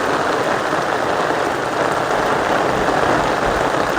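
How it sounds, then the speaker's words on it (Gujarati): Heavy monsoon rain keeps falling in Gujarat, a steady, loud, even hiss of drops on surfaces that holds without pause and with no one speaking. "ભાઈ જો હજી વરસાદ ચાલુ છે."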